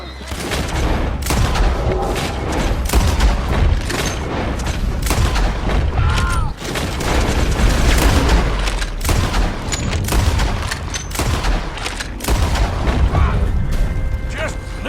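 Sustained gunfire from a Red Dead Redemption 2 shootout, with dense repeated shots and booming blasts running through the whole stretch and faint voices now and then in the mix.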